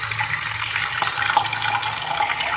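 Water runs from a tap into a flower-pot container, a steady close splashing gush that continues evenly without pause.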